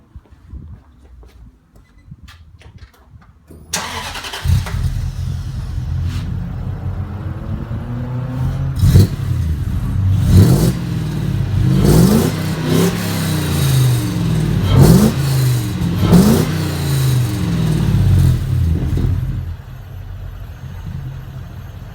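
A Toyota Hilux V8 on its stock exhaust cranks and fires up after a quiet moment, then settles into a deep idle broken by a series of loud repeated throttle blips, with the engine rising and falling close to the tailpipe.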